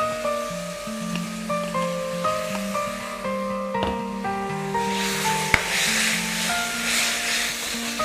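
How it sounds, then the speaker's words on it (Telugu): Lamb pieces stir-frying with soy sauce and vegetables in a pan make a hissing sizzle that swells in the second half, mixed under tonal background music. "అండ్ ఇప్పుడు మనం ఇందులో ఈ ల్యాంబ్ పీసెస్కి వేసేసుకుందాం."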